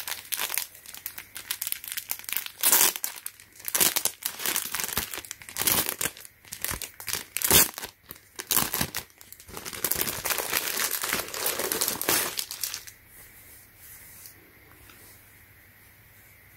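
Plastic wrapping is peeled and crumpled off a new black t-shirt, with loud crinkling and tearing bursts for about thirteen seconds before settling into quieter rustling, close by.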